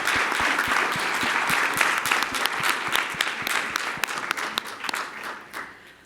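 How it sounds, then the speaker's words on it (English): A conference audience at a 2025 side event on malnutrition applauds the event staff, with steady mid-distance clapping and a few distinct sharp claps, fading gradually toward the end. "Can we pause and give these professionals a round of applause and a huge thank you?"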